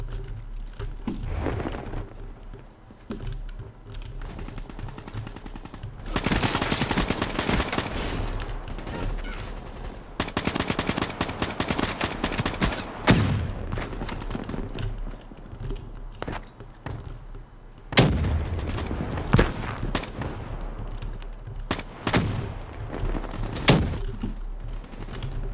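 Rapid bursts of gunfire in the multiplayer mode of Call of Duty Black Ops 3, dense volleys starting abruptly and repeating with short gaps, loud and close throughout.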